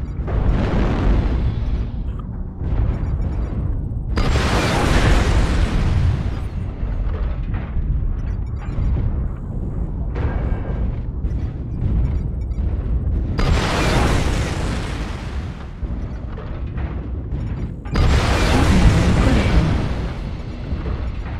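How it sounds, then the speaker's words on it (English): Repeated heavy artillery strike explosions from the DV-6M in the snowy Hibernal Rift game map, loud booming blasts at intervals with broad rumbling tails over continuous battle noise. "Artillery strike."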